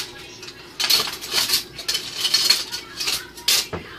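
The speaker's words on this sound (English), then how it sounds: "grab a spoon or a fork and just whisk that up" A spoon or fork whisks cinnamon into wet ingredients in a bowl, giving quick, bright clinking and scraping bursts in an uneven rhythm, close and moderately loud.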